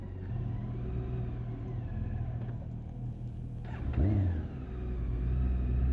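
A BMW K1600GT SE six-cylinder touring motorcycle idles with a steady low rumble, then its engine stalls out at a standstill, the note dipping and cutting with a brief lurch near the end.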